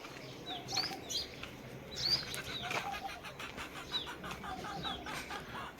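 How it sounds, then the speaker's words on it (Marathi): Early morning around a house, faint birds chirp and call now and then while chickens cluck in the distance over a low, steady outdoor background with no talk. "सकाळ सकाळ चालू आहे पक्ष्यांचा आवाज आणि आपलं घर हे घरासभोवतालचं वातावरण आहे असं कोंबड्यांचा आवाज सकाळ सकाळ"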